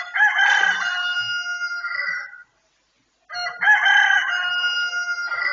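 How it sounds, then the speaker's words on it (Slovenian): A rooster crows twice, two long loud calls separated by a short silent gap, heard clearly and alone, as part of a Palm Sunday Passion reading. "In takoj je petelin zapel."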